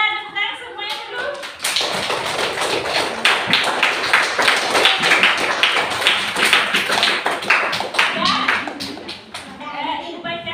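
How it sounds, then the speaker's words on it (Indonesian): A group at a school meeting bursts into sustained applause after brief talk, dense clapping that fills most of the stretch and tapers near the end. "Biar ada tepuk tangan semuanya dulu."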